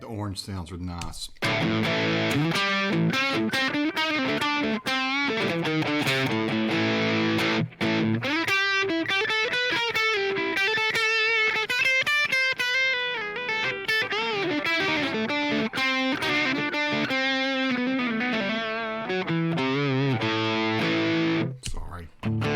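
A distorted electric guitar plays through an Orange amp model on a Line 6 Helix, with sustained chords and melodic lines that stay loud and steady throughout.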